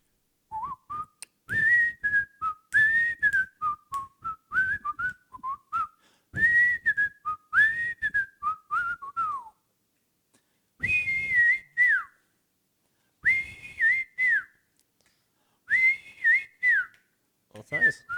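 A person whistles a melodic tune in repeated phrases, clear and close, with short pauses between passages and no talking over it.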